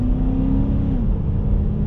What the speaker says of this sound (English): nice pull to this V8.